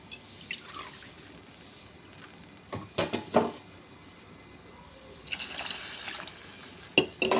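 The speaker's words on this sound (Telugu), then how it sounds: "3 గ్లాసులు వాటర్ పోద్దాం." Water trickles and splashes into a pot of chicken and rice in short bursts, with drips and a louder gush near the end, fairly close and quiet.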